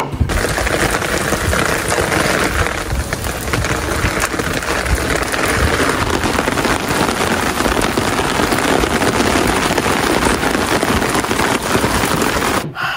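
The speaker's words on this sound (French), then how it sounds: "J'ouvre ma boîte aux lettres et là, il commence à pleuvoir." Rain falls steadily outdoors near a mailbox and an umbrella, a loud, dense, unbroken hiss of drops that stays even throughout with no voices.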